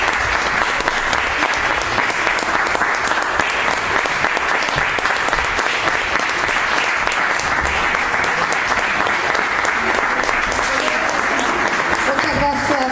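Strong, prolonged applause from a seminar audience at a traditional culture event, sending off a music group; thick continuous clapping holds steady at high level with faint voices mixed in beneath.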